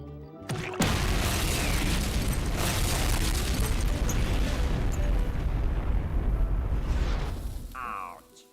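A huge, sustained roaring blast of the 1946 Baker nuclear bomb test at Bikini Atoll, loud and rumbling for several seconds before fading out.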